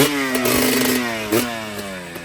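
A cold two-stroke KTM motorcycle engine runs close by at a steady high-pitched buzz, with a few brief throttle blips rising and falling; no talking.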